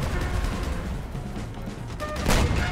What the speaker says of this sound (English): Oh, he's already trying to shoot at me.